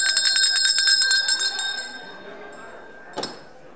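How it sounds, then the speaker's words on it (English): A school bell at a Lutheran church school rings with bright, metallic repeated strikes that fade over about two seconds, followed by a single clink near the end. "that is the bell."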